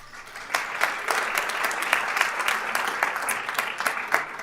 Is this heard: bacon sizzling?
no